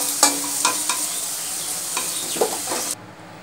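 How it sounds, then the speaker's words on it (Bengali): Potatoes frying in hot oil for a Bengali rohu fish curry, a steady sizzle broken by several sharp scraping stirs of the spatula, close and clear with no talking, then cutting off abruptly near the end. "এবার আলুটাকে খুব ভালো করে লাল করে ভেজে নেব।"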